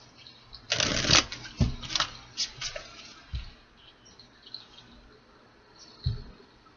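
Cards are shuffled in a quick riffle with crisp flicking bursts, followed by a few softer taps and shuffles close by.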